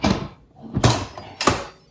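An Instant Pot lid goes on while sweet and sour pork cooks in a home kitchen: three close, fairly loud clunks and scrapes of the lid fitting into place, spaced roughly half a second apart, with no talking.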